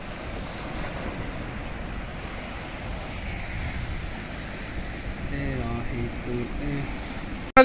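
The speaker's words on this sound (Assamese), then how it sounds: "পাহাৰৰ পানী যে বহুত সুত বৈছে" Water from a hillside stream near Likabali rushes strongly in a steady, broad roar with wind noise, and a voice murmurs briefly before a sharp knock at the end.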